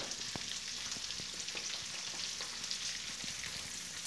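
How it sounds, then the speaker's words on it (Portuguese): Eggs frying in butter in a home pan late at night, a steady broadband sizzle with scattered pops and crackles throughout, close and continuous with no talking. "Aí tô aqui fritando os ovinhos ali pra mim, ó."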